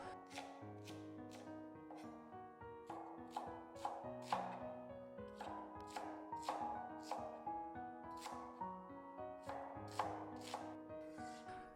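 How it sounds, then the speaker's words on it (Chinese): A knife chops fresh cabbage into thick strips on a cutting board, with crisp, steady, evenly spaced strokes, close and clear with no talking. "然后将包菜切成粗粗的细条，稍微给它切粗一点"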